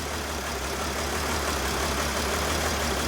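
A Mercedes Sprinter engine idles with a cylinder misfire, giving a steady, close, continuous low rumble with a slightly uneven pulse throughout, no voices.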